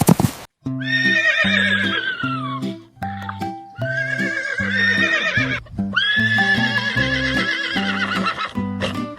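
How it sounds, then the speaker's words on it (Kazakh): A horse whinnies loudly several times in long, wavering calls, interleaved with steady clip-clop of hooves close by. "Жылқы қандай дыбыс шығарады?"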